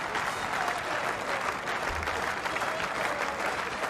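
A big crowd at a cricket ground applauds in a dense, steady wash of clapping that holds at an even level throughout.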